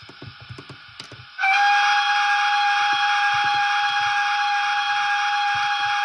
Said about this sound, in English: Do you want to give the whistle a toot?